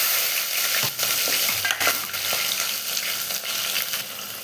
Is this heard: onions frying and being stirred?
yes